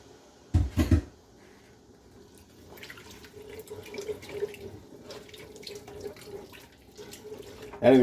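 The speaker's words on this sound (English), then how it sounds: "Adding this liquid will also deglaze the bottom of the pan and get all those little crusty bits off the bottom." Liquid poured into a hot pan of cooked bacon and brown sugar for bacon bourbon jam, deglazing the bottom: a steady, moderately loud splashing pour that builds after a couple of sharp knocks, with no talk.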